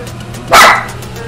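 A dog trying to climb onto a couch after chicken lets out a single loud, sharp bark at close range, over a faint steady room hum.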